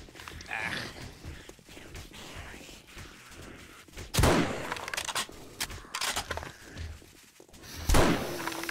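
Gunfire in the zombie survival game 7 Days to Die, several sharp cracks spaced a few seconds apart over a busy rumbling background, loud and punchy.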